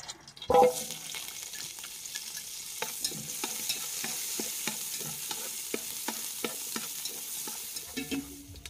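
Garlic and lemongrass sizzle steadily in hot oil in a pan while a utensil stirs and scrapes with repeated clicks and taps, close up, no talking.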